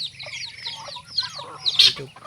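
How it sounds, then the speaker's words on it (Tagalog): Several chickens cluck and squawk close by in short, busy bursts, with one sharper high squawk near the end. "Meron po dito kakaibang manok, tatatlo sila."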